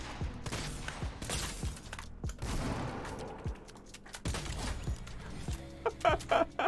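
Assault rifle fire in Fortnite crackles in rapid, uneven bursts across a busy, steady game soundscape, with sharp repeated reports and a few brighter electronic chimes near the end.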